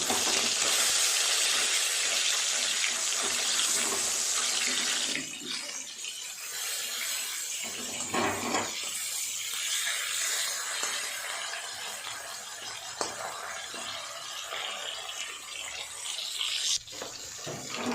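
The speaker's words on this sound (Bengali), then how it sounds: "তেল গরম হয়ে গেছে, মাছগুলোকে ভেজে নেব।" Foloi fish fry in hot oil, a bright, steady sizzle that is loudest at first, then eases to a softer bubbling crackle, with nobody speaking.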